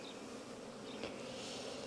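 Honeybees in hive colonies drone steadily, a dense, continuous buzz at a fairly even level for the full two seconds, with no talking.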